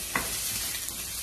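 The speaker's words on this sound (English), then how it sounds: "we're going to stir this until it is fragrant, just a couple minutes, until the onion turns translucent" Onion stir-fries in a reheated pan, a steady close hiss of sizzling oil with faint scraping stir sounds through a brief moment.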